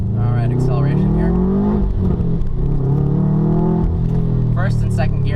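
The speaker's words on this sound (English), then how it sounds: "Alright, acceleration here." A 2011 Subaru WRX Stage 2 accelerating hard, its engine note climbing steadily through the gears with a loud rising rumble from inside the cabin, someone talking over it at times.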